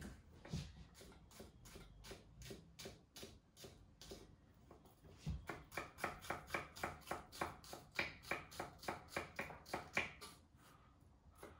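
Knife finely chopping red onion on a board, a fast even run of crisp taps, quiet and close, speeding up and growing sharper in the second half.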